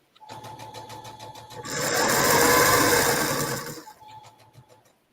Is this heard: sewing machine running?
yes